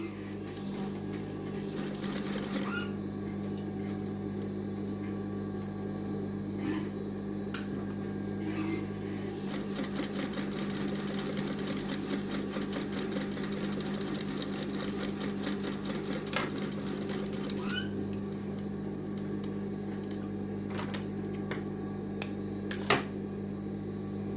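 Stitching along a checked shirt's sleeve seam, a sewing machine hums and rattles for a long stretch at moderate level, with a few soft clicks and brief pauses, and no one speaks.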